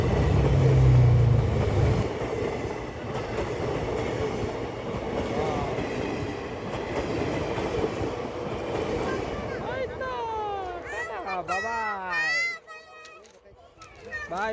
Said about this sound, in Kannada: ಚೆನ್ನೈ ಹೊಸೂರು ಹೋಗೋ ಟ್ರೈನ್ ಇದು